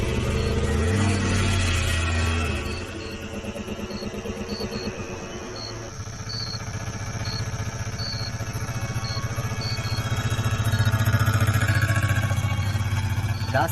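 An auto-rickshaw engine starts and runs with a steady low rumble and rattling clatter, then revs up as the three-wheeler pulls away, growing louder toward the end with no voices.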